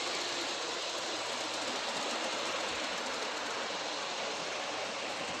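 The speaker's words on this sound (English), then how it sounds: "pulling my ore train. It's running quite well" An LGB garden-scale model tank engine hauls an ore train, giving off a steady, even whirring hiss with a faint low rumble beneath, continuous and unbroken throughout.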